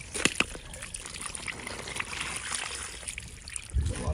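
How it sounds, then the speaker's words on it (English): Water pouring out of a disconnected pipe below a small dam for a hydro power setup, a steady close trickling and splashing rush with a few sharper drips early on and a low thump at the end, without talk. "There's a lot of water flowing out."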